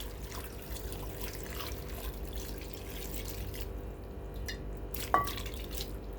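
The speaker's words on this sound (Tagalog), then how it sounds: "Tapos lagyan natin ng tubig na kapantay sa isda." Water poured into a pan of fish and eggplant while cooking pinangat, a steady trickling, running pour heard close with a faint drip near the end and no talking.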